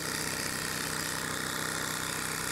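An old steam engine runs again after a few years standing idle, giving a loud, steady mechanical churn with a faint rhythmic low pulsing throughout and no voices.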